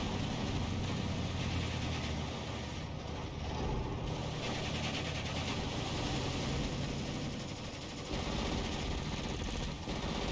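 A Recon half-track's engine in the Steel Division II war game, a steady loud mechanical drone and rattle that runs the whole time, with heavy rumbling low end and no talk.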